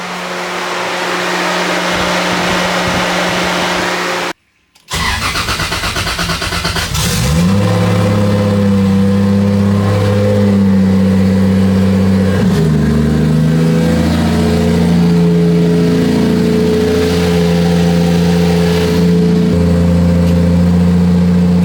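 A Toyota 2JZ engine is being checked for an idle fault. After a steady whirring and a brief cut to silence, it cranks, catches and settles into a loud, continuous idle with a slight fluctuation midway.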